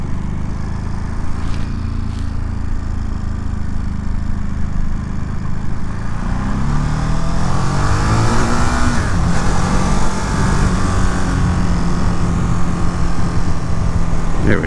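A 2022 Ducati Monster Plus motorcycle runs steadily throughout, its quiet engine hum rising in pitch around the middle as the bike accelerates and shifts, with continuous wind and road noise and no talk.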